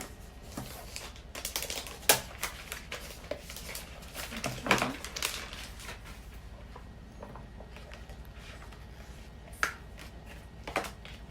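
Typing on an iPad Pro 11-inch keyboard, a scattered run of light clicky keystrokes, close and fairly quiet, with uneven pauses and a few sharper taps standing out.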